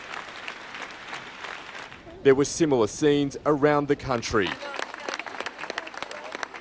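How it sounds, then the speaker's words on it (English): Scattered applause rises from a crowd at a silent tribute rally in France after a terror attack, clear at first and then continuing faintly beneath a narrator's voice. "The quiet broken only by sporadic rounds of applause."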